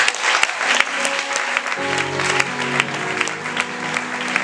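A church congregation bursts into sustained applause and cheering, dense and loud throughout, with a sustained organ or keyboard chord entering partway under the clapping.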